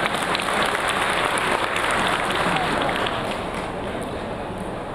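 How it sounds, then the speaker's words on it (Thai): Dense, steady applause from a crowd at a Thai ordination celebration, a continuous wash of clapping with a voice faintly over it. "ช่วยปรบมือเลยนะตรงนี"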